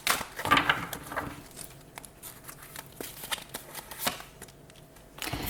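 Tarot cards shuffled and drawn by hand during a reading, with a run of soft papery riffles and slaps followed by sharper individual card snaps and flicks, close and fairly quiet, with no talking.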